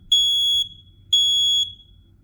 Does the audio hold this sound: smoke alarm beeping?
yes